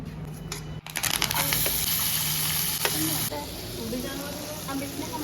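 Chopped onions, tomatoes, green chili and curry leaves drop into hot oil and fry with a loud, steady sizzle and crackle that stays close and continuous, with a sharp burst when they hit the pan.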